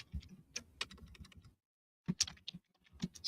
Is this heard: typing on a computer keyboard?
yes